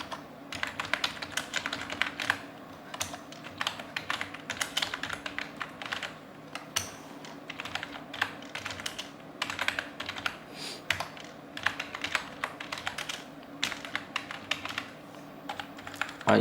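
Rapid, steady typing on a computer keyboard while entering data into an Excel sheet, close and continuous with irregular bursts of key clicks and brief pauses throughout.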